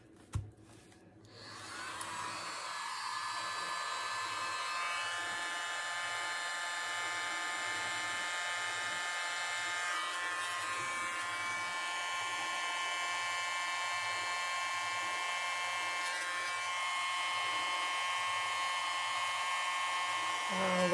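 A blue hair dryer blows on an acrylic pour painting on a convex canvas, a steady whirring motor hum that runs on and on, with someone talking quietly over it now and then.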